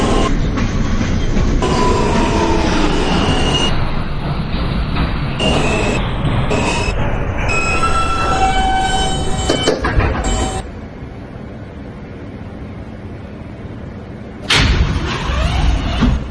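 A New York City subway L train running toward Broadway Junction: a loud, continuous rumble with rattling cars and screeching wheel tones that eases off partway through, then a sharp burst near the end, with no talking.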